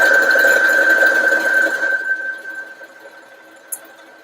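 A sewing machine stitches a buttonhole using a buttonhole foot, giving a steady, close mechanical whir with a high whine for about two seconds before it slows and fades, followed by a single small click near the end.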